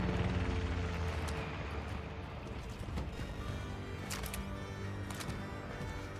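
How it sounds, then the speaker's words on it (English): A helicopter in the video game Cronos: The New Dawn drones steadily with a low rhythmic chop and engine rumble, joined by a few scattered sharp impacts. "I hear a helicopter."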